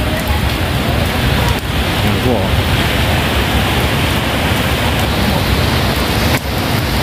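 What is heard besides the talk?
heavy rain falling by the sea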